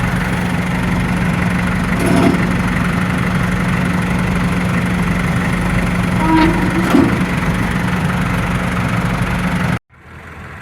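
A borrowed Kubota tractor engine idles steadily at close range, a constant low drone with a few brief clanks over it, then it cuts off abruptly near the end, leaving quieter background.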